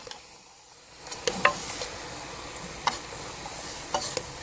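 Bajan pot pork stirred in a pan, a faint, soft sizzle broken by a few sharp scrapes and clinks of the spoon, quiet and close.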